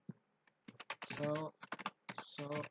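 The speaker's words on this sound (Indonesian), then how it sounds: "Kita ketikkan perintahnya yaitu show" Keys clattering on a computer keyboard as a router command is typed in Packet Tracer, quick uneven keystrokes in short bursts, mixed with nearby speech.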